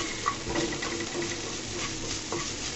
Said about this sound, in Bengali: চিংড়ি শুটকি কিন্তু ভাজা বেশিক্ষণ টাইম লাগে না, এগুলো ছোটো ছোটো চিংড়ি, তাড়াতাড়ি হয়ে যাবে।